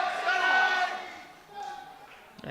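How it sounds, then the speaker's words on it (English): A crowd cheering a lift at a European equipped powerlifting championship: loud, raised voices shouting together, swelling early, easing, then rising again briefly. "And the crowd loves it."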